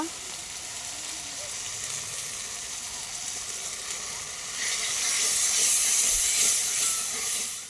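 Chopped tomato stirred in a hot pan for a prawn curry, a steady close sizzle and steamy hiss that swells louder partway through, with no clear stirring clatter.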